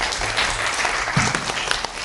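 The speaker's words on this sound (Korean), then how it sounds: "여러분 박수 한번 부탁드릴까요?" An audience at a Korean policy forum applauding a speaker, a dense burst of close clapping filling the short moment.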